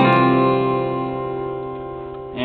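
Guitar chord from a song strummed once and left ringing, a rich stack of sustained notes slowly decaying, close and clear, with a faint fresh pluck at the very end.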